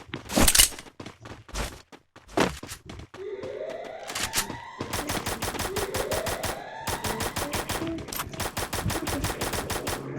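Rapid automatic gunfire bursts in a shooting video game, loud and close, with several single shots early, then long rattling volleys and whooshing effects, no talking.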